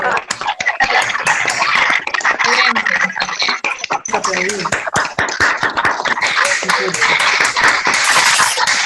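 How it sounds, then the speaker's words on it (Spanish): An online audience applauds together over reactivated microphones at the close of a medical webinar, a busy, uneven clatter of many separate clapping streams with overlapping voices and background chatter throughout. "a ver si podemos hacer un gran aplauso entre todos para dar fin a la jornada"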